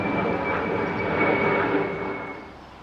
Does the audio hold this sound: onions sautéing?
no